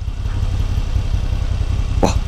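A 2022 Moto Guzzi V7 Special motorcycle engine idles steadily with a low, even rumble and a faint ticking, running alone for a couple of seconds with a brief sharper clack near the end.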